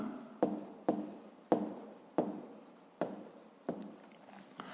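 Pen writing an explanation by hand for a fifth-grade maths exercise, a close series of scratchy strokes starting about every half second, each fading before the next, with no speech.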